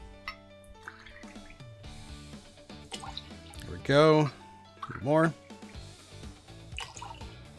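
Cold fresh water pours and trickles into a cocktail mixing tin in short bursts, with a person speaking briefly over the liquid sounds.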